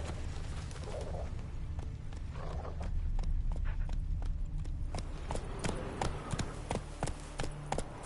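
Geralt's horse Roach in The Witcher 3 gives steady clip-clopping hoofbeats on open ground, a quick regular rhythm of fairly close strikes over faint ambient background.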